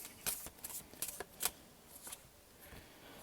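Thin cardstock tarot cards shuffled by hand in an ordinary overhand shuffle, giving soft, close, irregular riffling flicks in quick clusters, faint and alone.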